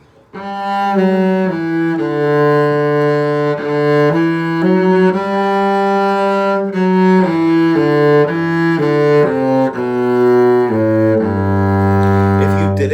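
A bowed string instrument plays a smooth melodic line of connected, slurred notes, sustained and close, ending on a lower held note.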